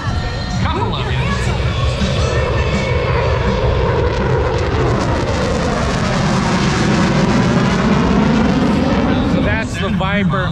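F-16 Viper fighter jet at the Pacific Air Show in Huntington Beach, a loud, sustained roar of jet engine thunder that swells and rumbles across the whole stretch, with a brief dip near the end.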